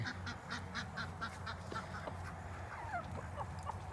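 A steady run of ducks quacking, fairly faint in open air on a cold, windless farm morning, with a low background hum beneath.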